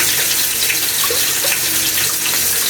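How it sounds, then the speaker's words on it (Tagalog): Water runs in a steady hissing stream while eggs are prepared for breakfast, close and fairly loud, with no talking. "Naglalagay ako ng konting water para malambot po, para smooth yung egg."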